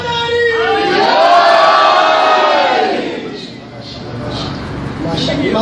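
A large crowd in Kohat roars a chanted reply to a slogan, many voices swelling together loudly for a few seconds, dipping, then rising again into renewed shouting.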